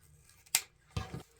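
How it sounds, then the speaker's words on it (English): Scissors snip through a ribbon tail while making a summer wreath, a crisp close-up cut followed by a second softer snipping sound and a small click at the end, quiet and without any talking. "And we'll cut off our 12-inch tail."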